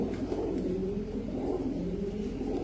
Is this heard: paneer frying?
no